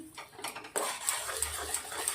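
A metal spoon scrapes and clinks against a pan, stirring a mix of seven kinds of loose seeds in a steady rhythm with bright little taps, close by and clear.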